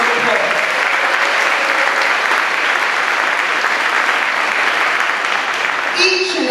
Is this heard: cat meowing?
no